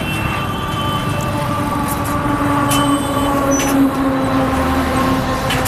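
Engine of a two-wheeler motorbike trolley food cart with a box body about 5 by 4 by 4 feet, idling steadily in reverse gear; a constant loud engine hum with a few brief higher tones, no talk.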